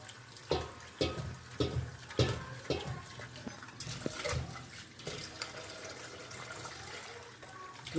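Tap water runs steadily into a sink while spinach (palak) is rinsed a second time, with splashing bursts and trickling over a continuous flow, close and moderately loud.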